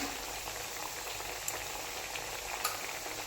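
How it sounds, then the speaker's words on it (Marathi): Coriander fritters shallow fry in oil in a pan, giving a steady, even sizzle with a few faint pops, close by and without talk. "एकदम अशा छान क्रिस्पी भाजून घ्यायच्या आहेत आपल्याला"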